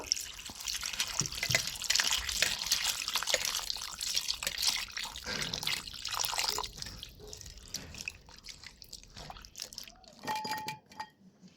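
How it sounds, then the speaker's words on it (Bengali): Fresh coconut pieces are washed under a running kitchen tap, giving continuous splashing water with drips. The flow is close and fairly steady, then thins to sparse drips and clinks near the end. "এবার আমি নারকেলগুলোকে ভালো করে ধুয়ে পরিষ্কার করে নেব"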